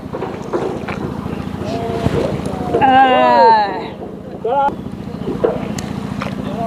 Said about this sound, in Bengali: সুন্দর নৌকা বিহার করছি কুন্তী নদীতে।